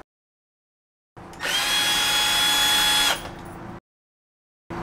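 A power driver spins screws out of an Evolve GTR electric skateboard enclosure in one close whirring burst of a couple of seconds. A lower, quieter rattle trails after it.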